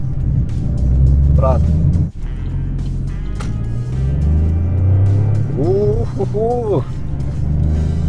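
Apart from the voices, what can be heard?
Opel Corsa accelerating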